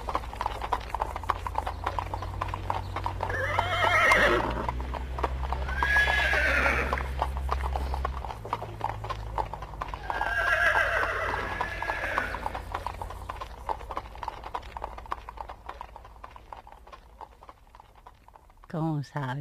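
A horse whinnies loudly and nearby, then hooves clip-clop steadily, followed by a second long neigh, with the clopping carrying on and fading toward the end.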